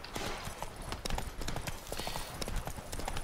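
Geralt's horse Roach clip-clops along in The Witcher 3 video game, its hooves striking a quick, steady rhythm that runs the whole time over a low background wash.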